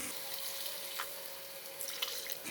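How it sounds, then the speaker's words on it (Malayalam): Water pours steadily into a pan of potato roast with a hissing, rushing sound, close by and continuous for a couple of seconds. "ഇതിലോട്ട് കുറച്ച് വെള്ളം ഒഴിച്ചു കൊടുക്കാം"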